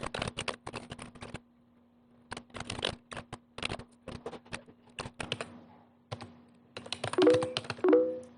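Typing on a computer keyboard, close-up bursts of rapid clicky keystrokes separated by short pauses, with a faint steady hum beneath and a couple of brief tonal chimes near the end.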